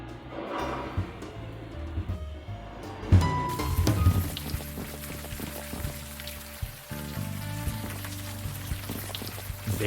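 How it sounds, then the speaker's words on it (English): Game rain from Unavowed falls steadily beside a wreck, a soft continuous patter with a brief louder burst, heard alone without talk. "standing here in the rain guarding a wreck"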